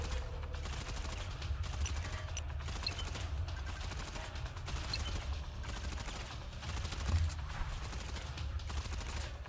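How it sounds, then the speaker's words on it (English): Sustained gunfire from the video game Reverse Collapse: Code Name Bakery, a dense rattle of rapid shots and bursts at moderate level over the full length, with no talking. "Man, that gunfire is really distracting me"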